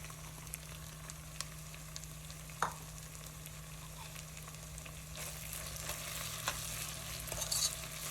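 Chopped peppers frying in a pan for couscous, a steady low sizzle with occasional soft scrapes and clicks of stirring, close and fairly quiet, no voices.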